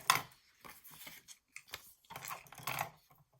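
Scissors snip through an index card in a handful of short, quiet, crisp cuts with brief pauses between them, close by and with no talking.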